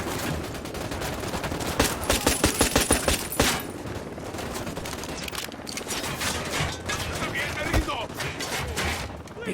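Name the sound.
gunfire in video game Ghost Recon Wildlands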